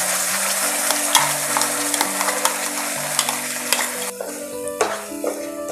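Chutney sizzling in a pan on low flame, stirred with a steady run of soft scraping strokes and a few light clinks over a constant frying hiss, with no talking.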